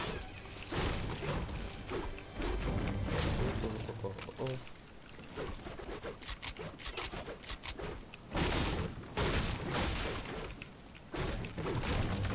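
A purple gun fires in a Fortnite Team Rumble match, dense bursts of rapid gunshots and crashes repeating over several seconds, loud and up close, with a player's voice talking over parts of it.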